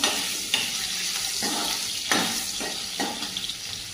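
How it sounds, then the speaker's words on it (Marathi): Green chilli pieces frying with garlic in a pan, a steady dense sizzle broken by several scraping stirs at irregular intervals, close and fairly loud with no voices. "लसूण चांगला परतला गेलाय तर त्यामध्ये हिरव्या मिरचीचे तुकडे टाकून घेत आहे"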